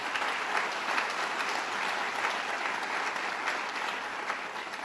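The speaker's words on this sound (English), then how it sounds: "Let's give them all a round of applause." Audience at a State of the State event on Staten Island giving a political delegation a round of applause, steady clapping from a crowd at a moderate distance, with no talk over it.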